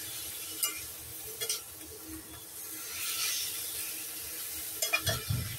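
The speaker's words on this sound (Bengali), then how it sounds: "এই কষা শুরু হলো মাংস।" Mutton with yogurt and fat sautéing in a pan for kosha, giving a steady low sizzle with occasional soft clinks and stirring scrapes close by.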